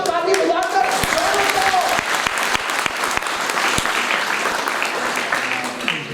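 An audience at an honouring ceremony for an Indian Idol winner breaks into loud, sustained clapping, with sharp individual claps standing out over a dense wash of applause.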